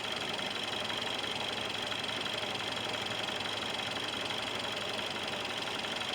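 A Ford Escape engine idling at operating temperature while overheating and running rough, with a steady mechanical drone and a faint knocking vibration that carries evenly throughout, close and continuous.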